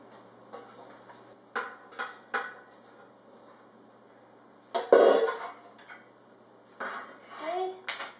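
Wet shredded cabbage for lacto-fermented sauerkraut is tipped into a small crock. Soft scattered clunks and scrapes of utensil on bowl and crock come through, with one sharper knock midway, over faint background noise.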